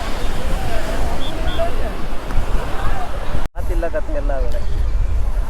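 Ocean surf at Panambur beach on the Karnataka coast washes in as a continuous broadband roar. Voices and crowd babble run over it, with a brief dropout midway.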